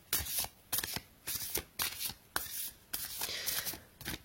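A deck of oracle cards is shuffled in quick, crisp riffling bursts, about eight of them separated by brief pauses, close and alone.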